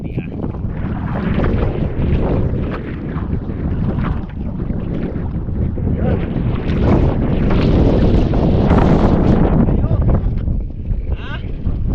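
Strong wind buffets the microphone out on the water from a boat, a loud, rough, continuous rumble that rises and falls for the whole stretch, with people talking underneath.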